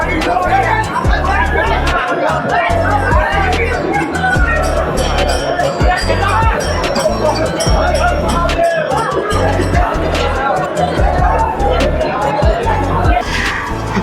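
A dense crowd murmurs steadily at a busy Mumbai train station during the morning rush, with many overlapping voices forming a continuous, loud babble throughout.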